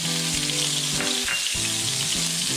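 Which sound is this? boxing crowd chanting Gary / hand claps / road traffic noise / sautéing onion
sautéing onion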